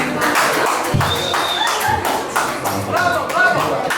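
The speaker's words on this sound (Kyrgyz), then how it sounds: "Коллектив упоста кол чаап атат." A group applauds at a birthday celebration with uneven, close clapping and thumps mixed with voices and background music, the hands sounding scattered rather than in unison.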